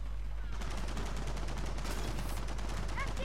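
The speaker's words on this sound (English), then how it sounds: "I just wasted this last two bullets of my boom shot" Boomshot fire from the Gears of War 4 horde mode on the Dinner map comes as dense, loud, rapid explosive blasts that run continuously with no pause.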